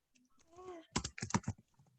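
Typing a Java import line on a computer keyboard: a quick burst of close keystroke clicks after a brief tonal sound, fairly quiet.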